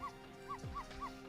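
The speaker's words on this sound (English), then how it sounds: "He's barking again." A dog in the video game Ghost Trick gives a run of four short, evenly spaced yips over a faint steady game hum, quiet and alone.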